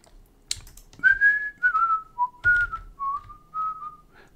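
A person whistles a melody from a song, a series of clear sustained and gliding notes in phrases, close and alone, with faint keyboard clicks at the start.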